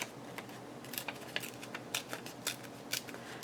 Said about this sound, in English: Let's just kind of fussy tear him a little.